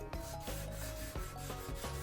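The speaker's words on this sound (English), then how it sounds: "So then I alternated between the random orbit sander and hand sanding" A wooden pizza peel is sanded by hand in steady back-and-forth rubbing strokes, close and rhythmic, with a soft gritty rasp and no voices.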